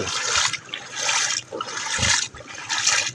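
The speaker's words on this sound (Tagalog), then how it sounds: "hanggang tuhod na ang tubig dito sa kalsada" Someone wades through knee-deep flood water on a road in Basista, Pangasinan, with rhythmic sloshing and splashing strides, each step a loud surge of water followed by a brief lull.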